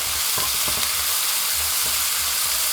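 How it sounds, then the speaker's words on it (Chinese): Scallions, minced garlic and a spoonful of doubanjiang stir-fried in a wok, giving a steady loud sizzle with a few scraping strokes of the spatula, and no voices. "加入葱花、蒜末， 再加入1小勺的豆瓣酱，炒香，炒出颜色。"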